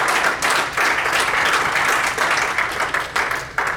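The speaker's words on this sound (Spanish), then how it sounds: "Denle un aplauso al Señor si está aquí en esta hora." A church congregation applauding during a sermon, a full burst of crowd clapping with slight pulsing swells, fairly loud and close, continuing throughout.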